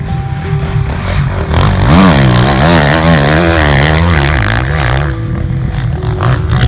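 Motocross motorcycles, including 500cc bikes, racing on sand at Loon-Plage, their engines a loud, close, continuous snarl that climbs and falls in pitch as riders rev and shift, with no talking.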